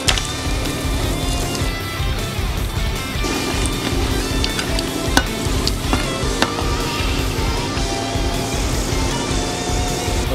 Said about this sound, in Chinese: 腐竹炸好之后，我们把这些大料全部放进去爆香。